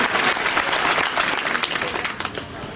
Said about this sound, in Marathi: शबास, टाळ्या वाजवा त्या पोरीसाठी.